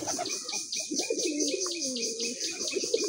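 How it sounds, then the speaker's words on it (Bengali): A male Raj Golla pigeon, a colored breed, coos close by in a rolling, repeated rhythm, with short bird chirps and clicking sounds around it. "এই ফ্রেশ জোড়াটা বিক্রি করা নর কিভাবে ডাকতেছে"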